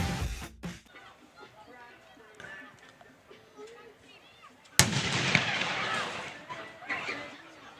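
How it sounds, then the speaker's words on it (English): Cannons boom in a salute before the national anthem at a game, with a sharp blast at the start and another loud report midway that rolls into echoing crowd noise, under scattered background chatter. "The cannon salute before our national anthem."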